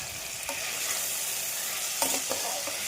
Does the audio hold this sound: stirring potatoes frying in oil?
yes